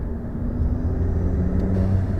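Steady, loud low rumble of a VW MK7 Jetta GLI engine with the turbo muffler deleted, a close, continuous idle-like drone with no talk.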